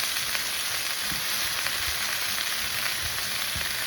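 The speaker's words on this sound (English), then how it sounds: "I'm going to mix that with the saffron and the paprika." Canned crushed tomatoes with saffron and paprika fry in a paella pan, a loud, dense, continuous hiss with scattered soft pops and stirring scrapes, close by and without any talking.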